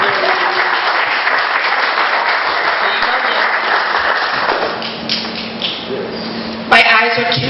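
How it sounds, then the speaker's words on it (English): A luncheon audience claps in a dense, sustained burst that fades after several seconds, followed by a short bump and a voice starting to speak. "Big round of applause."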